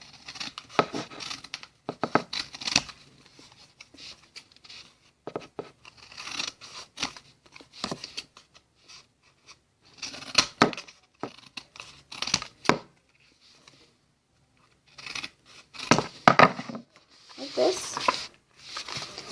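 Scissors snip and trim the edges of paper for a homemade Pop-Tart-shaped notebook, irregular bursts of close cutting and rustling crinkles separated by quiet pauses, with speech heard between.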